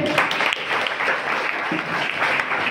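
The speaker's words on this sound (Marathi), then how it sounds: "एकदा जोरदार टाळ्या झाल्या पाहिजे" A crowd claps enthusiastically, a steady burst of applause filling the whole moment.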